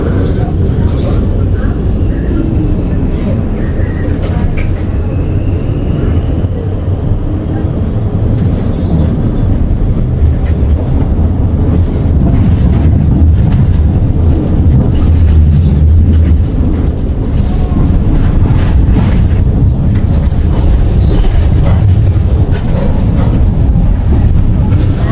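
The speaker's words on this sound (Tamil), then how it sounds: "சூரிச் ரயில்வே ஸ்டேஷன் இருக்கிற இடம்" Steady low rumble of trains in Zurich's large railway station, with rolling rail noise, distant clatter and a murmur of people throughout.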